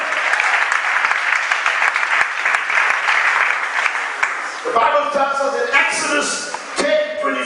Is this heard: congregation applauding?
yes